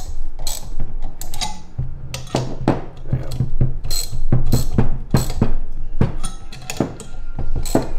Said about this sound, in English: you get a better feel for torque going through your ratchet anyway